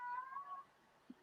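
A house cat gives a single short meow, faint and somewhat distant in a quiet room, and a brief soft sound follows it.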